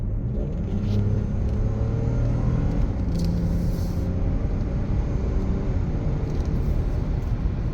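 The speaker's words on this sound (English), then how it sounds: "Listen to this engine." Steady low V6 engine rumble from inside a 2019 Toyota Avalon accelerating on a highway at night, a continuous droning roar with road noise that holds level throughout.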